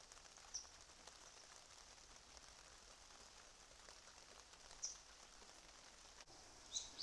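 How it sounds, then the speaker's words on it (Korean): Rain falls beside a clear valley stream near a lotus garden, a soft steady patter with a few faint isolated drips standing out against the even wash of sound. "빗소리까지 세트야."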